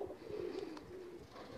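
Pigeons cooing softly on a rooftop in Jeddah, a low rounded coo rolling through the clip with faint higher chirps, fairly quiet and close, with no voices.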